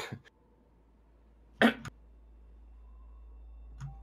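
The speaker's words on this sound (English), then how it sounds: "that was an actual real cough" A single real cough from a commentator during a Celeste Any% speedrun league broadcast, a short sharp burst followed by a quick second catch, close to the mic in an otherwise quiet room.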